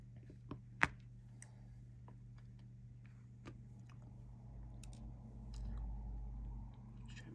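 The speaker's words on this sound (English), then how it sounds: "Sorry if you hear it chewing, I'm still eating it" Someone eats a sandwich indoors, with soft sporadic chewing and biting clicks close to the microphone over a steady low hum, no speech.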